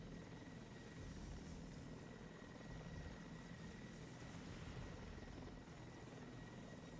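A helicopter in the video game 7 Days to Die flies with a continuous, even rotor and engine drone that holds steady throughout, faint in level and with no voices over it.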